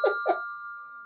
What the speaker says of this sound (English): I'm waiting for the bell.